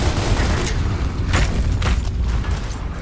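A grenade blast and gunfire in Gears of War Reloaded form a loud, dense wall of booming rumble with a few sharper bursts cutting through, continuous over a few seconds.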